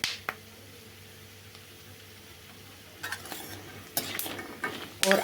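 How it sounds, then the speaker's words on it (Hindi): Frying in ghee in a pan: a quiet, steady low hum with a few faint pops at first, then bursts of sharp, close crackling that grow louder toward the end, with no talking. "यहाँ पे चटकने की आवाज़ आपको भी सुनाई दे रही है और बढ़िया घी में ये चटक"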